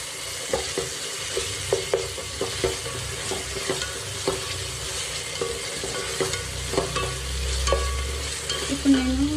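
Onions and tomato fry with ginger garlic paste for chicken biryani, giving a steady sizzle broken by repeated scraping stirs of a spoon in the pan. The stirs come at a fairly regular pace, close and moderately loud, with no talking.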